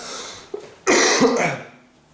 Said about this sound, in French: je tousse encore plus que la normale